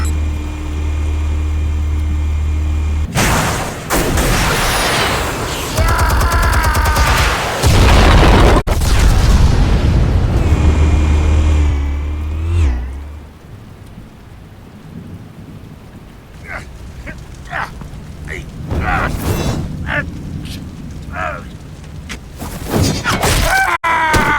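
Heavy booming explosions from the Batman Telltale video game, loud rumbling blasts with long low roars across the first half, then fading into scattered sharper bangs and crackles.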